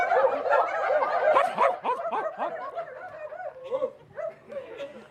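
A crowd at a spiritual gathering imitates dogs, many voices yipping and barking in a dense burst that thins into scattered woofs and laughter over a few seconds.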